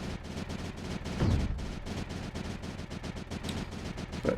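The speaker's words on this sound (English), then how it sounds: "But holy cow, is that cannon effective or what?" Rapid cannon fire in the video game Creeper World 4, a dense run of punchy shots repeating steadily over several seconds with a heavier burst partway through, loud and continuous without talk.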